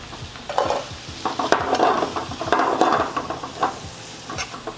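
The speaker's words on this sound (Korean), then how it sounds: "좀 센 불에 조리를 하시다가 오징어가 살짝 이제 익기 시작한다 싶었을 때 양파랑 당근 넣으시고요." Squid stir-fried with onion and carrot over high heat sizzles steadily in the pan while a utensil scrapes and stirs in repeated rhythmic strokes, close and fairly loud.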